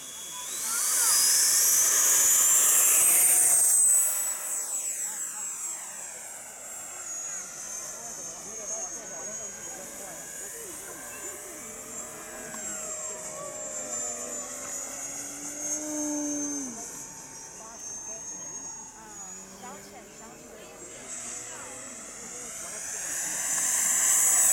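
A 80mm-scale F-104 model jet turbine at a flying field, loud roaring whine at takeoff, then its steady high whistle of a flyby fading and swelling as it circles, with people talking and cheering throughout.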